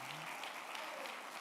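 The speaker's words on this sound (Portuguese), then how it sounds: "Se é para o Senhor, pode ser mais alto as palmas, amém?" A church congregation claps hands during an evangelical service, a steady dense patter of applause filling the space, with a faint voice briefly audible near the start.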